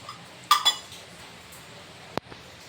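A spoon stirs sugar into mango kesari in a metal pan, giving a quick pair of bright clinks followed later by a single sharp tap, close and clear against a quiet kitchen.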